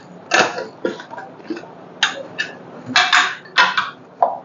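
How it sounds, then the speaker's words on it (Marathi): A pressure cooker holding freshly cooked rice is opened in a home kitchen, giving a string of short metallic clanks and scraping clicks from the lid and its fittings, close up, with brief quiet gaps between the knocks. "आपण हा कुकर उघडून घेऊ"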